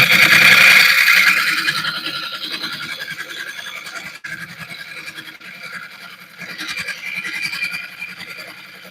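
A wood lathe turns an oak burl bowl at a little under 700 RPM, a steady whirring rumble with a dense scraping, rattling texture from the cut, loudest at the start and then settling to a continuous close hum.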